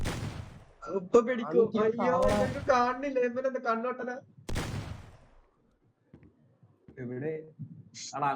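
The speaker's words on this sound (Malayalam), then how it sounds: "എല്ലാ കാലിന്റെ ഇടയിലും വെടിവെക്കണം." Sharp gunshot blasts in the video game Meccha Chameleon crack out two or three times amid lively chatter from players talking over each other.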